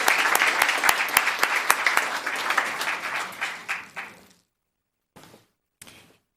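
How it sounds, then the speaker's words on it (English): Audience at a town council meeting applauds, dense clapping that gradually thins and fades out over about four seconds, followed by silence and a couple of brief faint stray sounds. "another round of applause"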